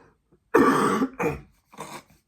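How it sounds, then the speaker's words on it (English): A single harsh cough bursts out, followed by two shorter, quieter coughs with pauses in between, close and alone. "when I talk a lot, I run out of breath and then I have to cough"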